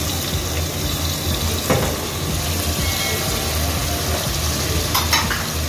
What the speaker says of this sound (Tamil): தக்காளியும் சேர்த்து நல்லா கிண்டி வச்சுக்கணும்.